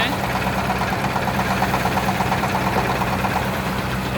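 A trawler boat engine idles steadily near a launch as people board, a loud continuous low rumble with rhythmic knocking throughout, with voices talking over it.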